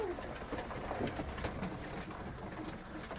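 Several pigeons coo softly close by while they are fed outdoors, low burbling calls repeating steadily across the moment with faint background noise.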